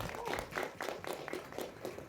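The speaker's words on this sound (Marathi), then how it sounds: "जोरदार टाळ्या त्यांच्यासाठी" An audience at a Marathi film trailer launch claps, a soft rhythmic patter of applause at some distance, fairly faint and steady across the moment.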